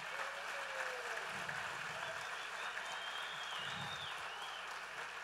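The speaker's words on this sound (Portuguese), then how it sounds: "então dá um aplauso melhor." A church congregation claps in sustained applause during a sermon, an even wash of many hands with a couple of brief voices breaking through under it.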